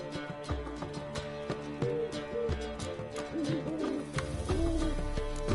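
Owl hooting in The Witcher 3 video game, repeated low hoots layered over dense in-game music and ambience, moderately loud throughout.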